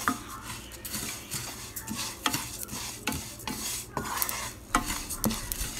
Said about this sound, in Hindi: तो मैं सबसे पहले ज़ीरा को भून रही थी